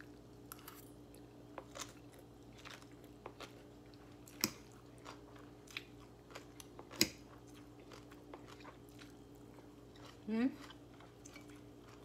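Someone eats spicy Thai som tam papaya salad with fish balls and blanched vegetables, making faint, sporadic crunchy bites and wet chewing clicks close to the mic, with a brief vocal sound near the end.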